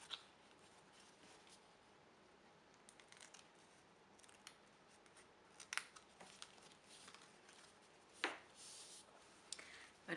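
Scissors snip off the excess paper while building a paper explosion box, a quiet run of short, crisp cuts with scattered louder snips near the end, no talking.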